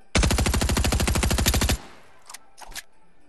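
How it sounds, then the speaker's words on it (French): Submachine gun firing a rapid continuous burst in Fortnite creative mode, loud and close for under two seconds, followed by a few faint clicks and short game sounds. "ce pistolet mitrailleur, il est comme spécial et pas mal"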